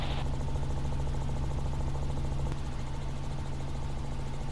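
A Robinson R-44 helicopter in flight near Slidell, its engine and rotor making a steady, loud, close drone with a constant low hum that continues unbroken from start to finish.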